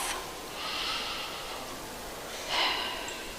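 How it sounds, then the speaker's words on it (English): Audience members at a Bahrain accountancy conference breathe deeply in unison, with a soft drawn-out inhale followed by a louder exhale of air a couple of seconds later, over a hushed room. "I can hear you breathing, so try to take a deeper breath."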